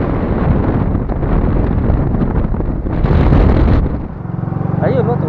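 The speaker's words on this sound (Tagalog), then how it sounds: "Medyo malakas masyado yung hangin kaya sigurado medyo maingay itong video na to." Strong wind at a beach buffets the microphone in loud, rough gusts, with a brief softer stretch near the end.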